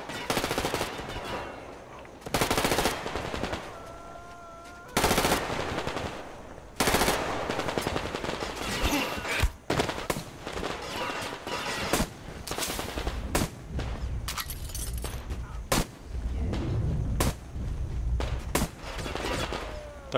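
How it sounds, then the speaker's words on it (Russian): Gunfire in the video game Metro Exodus, with repeated loud bursts of automatic fire and single sharp shots separated by quieter stretches, some volleys close and heavy, others shorter and more distant. "тут еще где-то стреляет"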